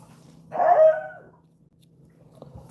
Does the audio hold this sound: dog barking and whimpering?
yes